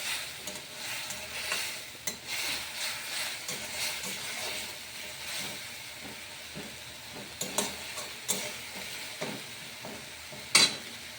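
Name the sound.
tomato puree frying and being stirred in a pan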